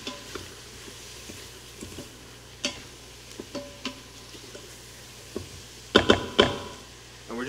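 A utensil stirs vegan collard greens with mushrooms in a pan over a low, steady sizzle, with scattered soft scrapes and taps and a louder burst of clattering strokes near the end; no one talks.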